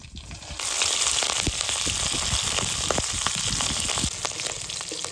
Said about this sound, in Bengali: লঙ্কাগুলো হালকা ভেজে নিয়েছি